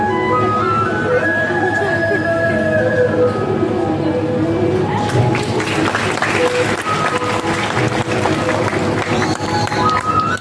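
Audience applause at a Koli community students' prize distribution ceremony in Navsari. A bursting clatter of clapping fills the second half, following tonal sound and crowd voices in the first half.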